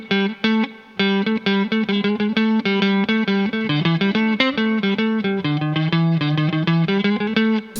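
Microtonal electric guitar played through distortion and chorus effects, a dense sustained stream of bending, slightly off-pitch notes and chords, loud and continuous with a few brief breaks, no voices.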